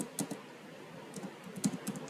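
Keys clatter on a computer keyboard while code is written, a few quiet separate taps followed by a small cluster of keystrokes near the end, close and unaccompanied.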